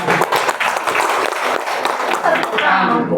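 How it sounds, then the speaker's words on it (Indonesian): Audience clapping at an Indonesian Javanese-language talk, a dense steady round of applause lasting the whole stretch with voices mixed in beneath it. "saya ditepuk tangan dong. Tepuk tangan."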